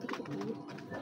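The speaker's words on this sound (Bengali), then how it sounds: "কবুতরটা একটা ডিম পারছে, দেশি কবুতর বাচ্চারা কি ডিম পারে দিচ্ছে আপনার।" Domestic pigeons cooing near at hand, soft repeated low murmuring calls running through the whole moment with no talk.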